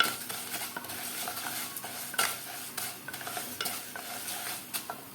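Rice frying in a pan while being stirred for a peas and carrots dish, a soft sizzle broken by rhythmic scrapes and clinks of a spoon against the pan, no voices.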